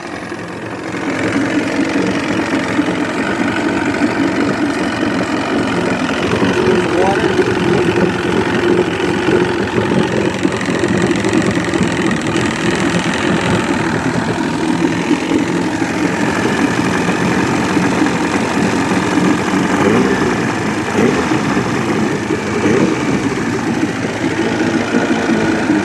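An Evinrude Johnson 85hp V4 crossflow outboard motor running steadily after a carburetor rebuild, a loud close continuous engine drone that holds even for the whole stretch, with no talking.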